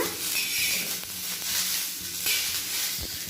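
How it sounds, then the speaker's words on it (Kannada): Okra frying in oil in a pan, a close continuous sizzle with faint stirring scrapes and a light knock near the end, no voices. "ನಾನಿಲ್ಲಿ ಒಂದು ಸ್ವಲ್ಪ ಎಣ್ಣೆ ಹಾಕ್ತಾಯಿದ್ದೀನಿ ಎಣ್ಣೆ ಹಾಕ್ಬಿಟ್ಟು ಮತ್ತು ಸ್ವಲ್ಪ ಫ್ರೈ ಮಾಡ್ಕೊತಿದ್ದೀನಿ"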